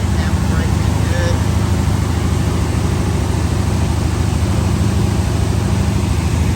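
A freshly rebuilt engine idles steadily at around 1,700 RPM during break-in, a loud continuous low drone with no change in pitch throughout.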